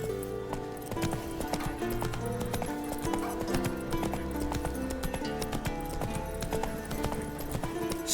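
Roach, a horse in The Witcher 3 video game, trots with a steady, close clip-clop of hooves over a continuous musical background.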